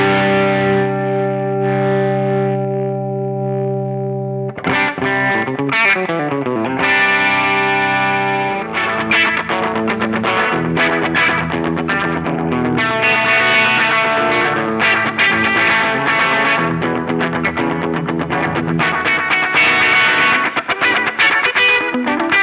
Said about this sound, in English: Let's try the Keeley comp and have a listen to how squishy this can get